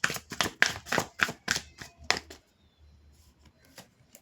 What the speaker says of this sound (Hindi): कुछ और कार्ड्स आना चाहते हैं इसलिए मैं फिर से शफल कर रही हूँ